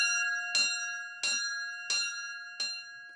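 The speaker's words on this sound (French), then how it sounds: "la tradition, c'est de faire sonner la cloche en souvenir de tous ceux qui ont vécu ici et qui y reposent" A church bell at the Roc Saint-Gervais sanctuary in the Gorges de la Jonte, Lozère, strikes four times at an even pace, each ringing stroke clear and bright with a long humming tone sustained between strikes.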